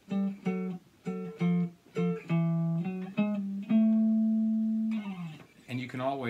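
A blues turnaround played on a three-string guitar: a series of plucked notes and short chords, some repeated and some held, stepping through a walking line before ringing out, fairly quiet and close.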